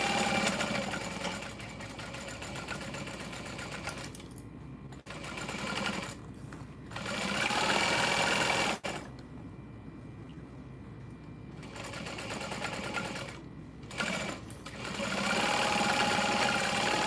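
A sewing machine stitches a messenger bag in steady whirring runs at a long stitch length, starting and stopping several times with brief pauses between bursts, close and clear.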